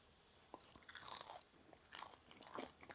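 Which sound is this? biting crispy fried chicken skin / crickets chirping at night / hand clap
biting crispy fried chicken skin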